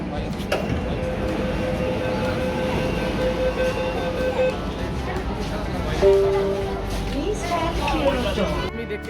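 A Kolkata metro train running through the tunnel under the Ganga river: a constant rumbling carriage roar with brief whining tones, heard under people talking nearby.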